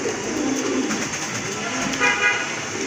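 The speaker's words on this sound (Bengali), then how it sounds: "আরেক জোড়া রাজগোল্লা কবুতর" Raj Golla pigeons, a pair at a bird sale, give soft low cooing close by amid steady street noise with faint car horns and traffic, no talking.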